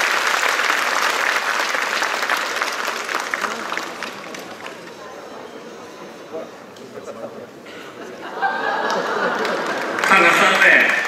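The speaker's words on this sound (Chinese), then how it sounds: "观众朋友，鼓鼓掌吧，为我们自己的武术鼓鼓掌" An audience at a Hong Kong wushu (martial arts) event applauds in a loud, sustained burst of clapping that dips in the middle and swells again toward the end, with some crowd voices mixed in.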